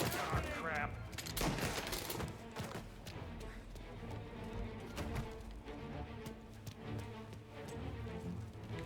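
Scattered volleys of gunfire in the video game Mafia Definitive Edition crackle and thud at a low level, mixed with faint voices and background noise.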